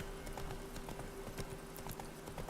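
Horse hooves clip-clopping in a video game, a quiet, uneven string of hoof strikes under a low steady hum, with faint noise in the background.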